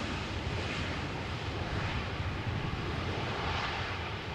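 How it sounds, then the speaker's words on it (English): An airliner arriving at Amsterdam Schiphol Airport in crosswind, a steady broad engine roar at moderate distance with a brief swell of reverse thrust, no voices over it. "Was a little bit of reverse thrust being applied,"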